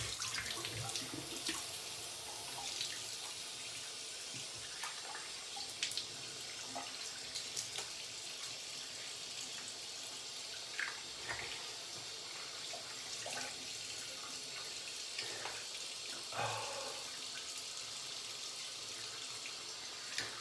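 Water runs steadily from a bathroom tap during a rinse after a head shave, a constant soft splashing hiss with occasional small splashes, fairly quiet and continuous throughout.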